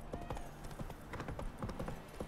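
Horse hooves clip-clopping in The Witcher 3 while riding, a quick, steady run of sharp hoofbeats close by, faint in level, with soft game ambience underneath.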